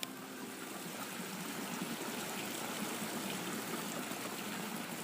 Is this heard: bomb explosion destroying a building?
no